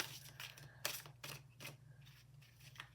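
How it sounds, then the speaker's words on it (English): Several quick papery riffles and soft snaps of tarot cards being shuffled by hand, close and fairly quiet, over a low steady hum. "Shuffle up the cards."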